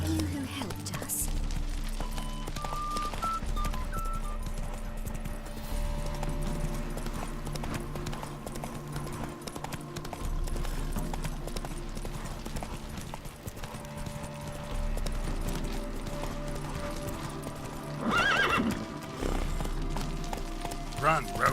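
Roach, Geralt's horse in The Witcher 3, gallops with steady clip-clop hoofbeats throughout, under game music and a talking voice, with a short whinny near the end.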